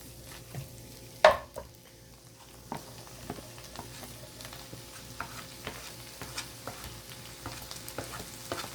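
Soft, steady sizzling of butterbur stalks stir-frying in a pan with scattered clinks and stirring scrapes, one sharper knock near the start, no voices.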